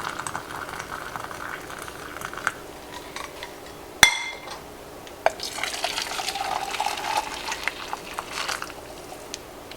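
Boiling water goes into a pot sitting in a cozy, opening with faint drips and light glassy clinks, then a sharp knock followed by a sustained, bubbling splash of pouring close by.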